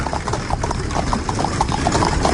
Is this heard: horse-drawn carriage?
yes